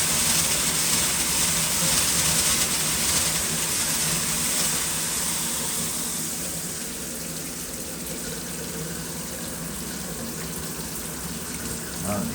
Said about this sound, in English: You hear the air in the line.